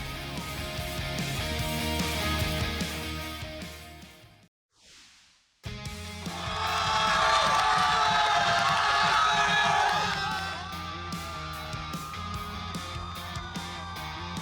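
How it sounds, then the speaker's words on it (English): The Colquitt County student section roars at a Friday night high school football game in the hog pen, loud sustained crowd cheering and whoops that drop out briefly midway, then surge back, with some voices shouting. "The Colquitt County student section cheering loud and proud in the hog pen tonight"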